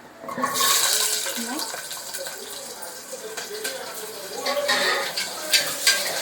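Onions hit hot oil that already holds cinnamon and cloves, giving a bright sizzle with scraping and stirring against the pan, fairly faint and uneven, with some rustling clatter.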